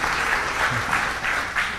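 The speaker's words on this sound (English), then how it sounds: "Thank you for that very much appreciated applause." A crowd claps in sustained, dense applause, steady and fairly loud, with no clear voices over it.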